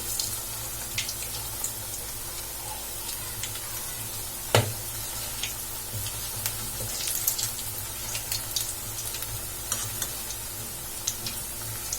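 Drumstick leaf vada sizzles steadily in hot oil, a soft continuous crackle and hiss with scattered pops and one sharper clink, fairly quiet and without talk.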